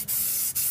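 An AR15 rifle being spray painted in camouflage paint: a steady, close hiss of aerosol spray with two short breaks where the nozzle lets off.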